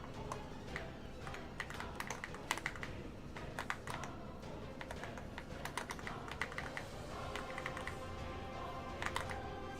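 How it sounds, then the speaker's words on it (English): Rapid typing on a computer keyboard, a dense run of clicky keystrokes in irregular bursts that continues close and steady throughout, with no voice over it. "I'm just playing whack-a-mole with my keyboard a little bit."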